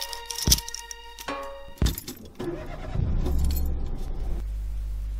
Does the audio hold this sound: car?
yes